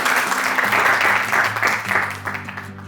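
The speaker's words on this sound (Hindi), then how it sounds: "तालियां यार, वेलकम करो।" An audience at a Geeta University event in Panipat claps to welcome a performer, a dense, steady round of applause with a faint voice underneath.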